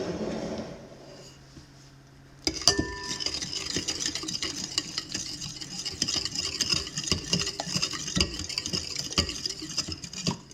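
A utensil stirs eggnog sourdough mixture with starter in a bowl, giving repeated scraping, knocking strokes in an uneven rhythm close by after a short quiet start, with no talking.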